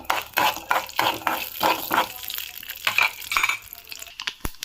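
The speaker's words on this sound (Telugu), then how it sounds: "శనగపప్పు, మినప్పప్పు అండ్ పొట్టు మినప్పప్పు, ఆవాలు, జీలకర్ర వేసుకుందాము. కొంచెం వేగనిద్దాము దీన్ని." Chana dal, urad dal, mustard seeds and cumin seeds fry in hot oil, giving a steady crackling sizzle with light stirring scrapes throughout, close and moderately loud, with a brief sharp clatter near the end.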